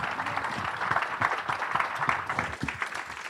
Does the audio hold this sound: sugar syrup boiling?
no